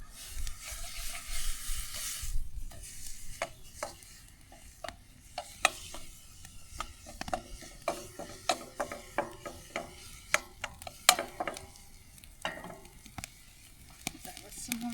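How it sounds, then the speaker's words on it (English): Food crackles and sizzles over an open campfire in sand dunes, with scattered pops and scraping, and a voice speaks occasionally. "Now we're sizzling."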